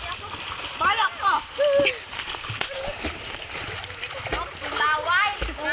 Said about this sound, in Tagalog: Adrian, talon ka nga